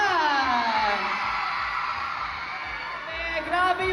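A loud crowd at a mall show whoops and cheers for a P-pop group, with shrill screams and wavering yells sustained throughout and swelling near the end.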